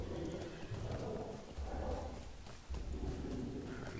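Rhythmic hoofbeats of a horse ridden in the online game Lord of the Rings Online, steady clip-clop over a continuous ambient game soundscape with faint bird calls, moderately loud throughout.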